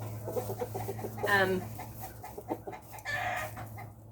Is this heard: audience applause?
no